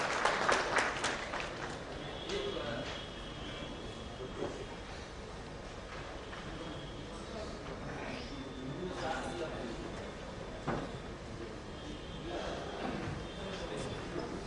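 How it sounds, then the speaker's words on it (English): Audience applause at the inaugural session of the Smart City Build Bihar 2016 event, a steady crowd clapping that holds at moderate level for the whole stretch without talk over it. "Please give a big round of applause."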